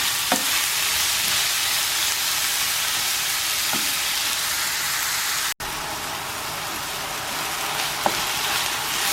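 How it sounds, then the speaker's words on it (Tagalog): About 300 grams of ground beef stir-fries in a hot pan, a dense, loud continuous sizzle with a few faint scrapes of the spatula and one brief dropout, no talking. "isutin natin ito hanggang mag-change yung color"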